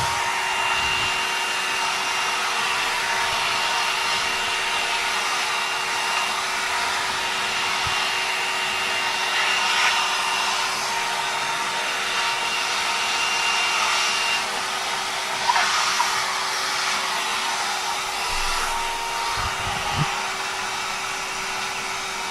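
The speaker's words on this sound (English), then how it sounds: "let's give it a blast on the vacuum." A vacuum cleaner runs steadily and loudly for the whole stretch in a workshop where an SMD pick-and-place carousel part is being milled, a constant whooshing drone with a few small clunks near the end and no talking.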